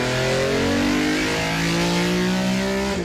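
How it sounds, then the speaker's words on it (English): A Ferrari 275 GTB V12 roars wide open, loud and close, its dense exhaust note rising steadily through the gears without a break, no voices present. "shattered at once by the roar of a V12 wide open"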